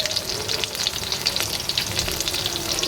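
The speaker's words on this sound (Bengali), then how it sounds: "দেখো কি সুন্দর ভাজা হচ্ছে।" Pitha made from flour dough mixed with boiled potato frying in hot oil, giving a steady, dense sizzle with crackling pops throughout, close and continuous with no talk.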